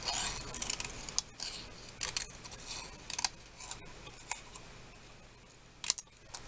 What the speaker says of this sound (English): I just kind of cut some little jagged edges here.